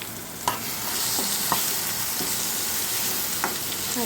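Chicken gravy seasoned with spices is stirred in a frying pan, a steady sizzle broken by several sharp scrapes and taps of the spoon against the pan, close and alone with no voices.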